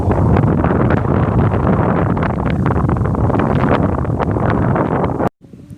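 Strong, gusty wind roars steadily into the microphone while a Thai chula kite is flown on an open field, a loud buffeting rush that cuts off abruptly near the end.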